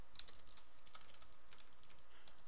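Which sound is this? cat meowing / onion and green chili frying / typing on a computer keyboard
typing on a computer keyboard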